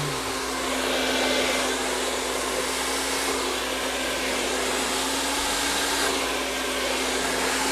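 A hair dryer blows steadily on curly hair in a salon-style blow-dry. The airflow rush and motor hum are loud and continuous throughout, with no speech.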